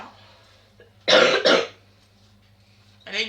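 A woman with bronchitis coughs twice in a quick pair, loud and close, then gives a shorter cough a moment later, over a faint steady hum in a home kitchen.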